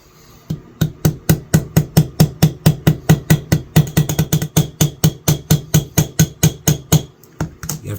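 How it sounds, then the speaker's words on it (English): Hammer tapping a pin on a serpentine pocket knife during restoration, a long steady run of about thirty sharp, evenly spaced metallic taps at close range with no talking. "I'm going to pin this over as much as possible"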